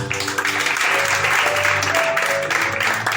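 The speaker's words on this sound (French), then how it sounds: "Est-ce qu'on va acclamer le Seigneur pour la grâce?" A church congregation claps and cheers to acclaim the Lord after a sermon, dense applause with some voices holding steady over three seconds.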